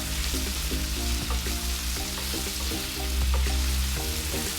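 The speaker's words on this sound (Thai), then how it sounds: "ผัดคลุกเคล้าให้เข้ากันดีนะคะ" Broccoli, zucchini, mushrooms, carrot and onion stir-frying together in a pan, a continuous dense sizzle with repeated scraping and tossing sounds throughout.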